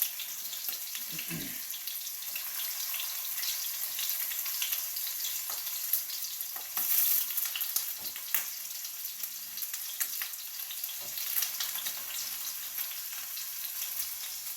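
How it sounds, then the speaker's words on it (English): Cubes of paneer shallow frying in ghee in a pan over medium heat give off a steady, close hiss and sizzle throughout, with scattered pops and small clinks, and no talking over it. "we're gonna use the same ghee that we used to shallow fry the paneer"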